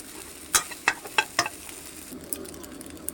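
Mackerel fried rice being stir-fried in a pan: a steady sizzle runs under four sharp scraping strokes of the spatula in a quick rhythm, followed by softer frying.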